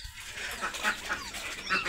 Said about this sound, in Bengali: হাঁসকে একটু গুঁড়া খাইতে দেবো।